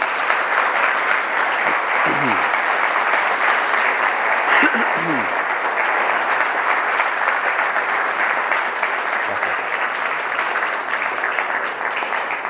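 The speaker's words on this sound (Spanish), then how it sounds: "el aplauso es para ellos" Steady, dense applause from a large audience at a lecture, filling the whole stretch, even and sustained without pause.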